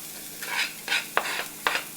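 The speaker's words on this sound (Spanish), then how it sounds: "Aquí ya tengo la cacerola caliente, lo tengo en el número 8 y vamos a ponerle un poquito de aceite." Garlic in a little hot oil in a pan over high heat, sizzling in short bright bursts with several stirring scrapes; close and fairly quiet, with no voices.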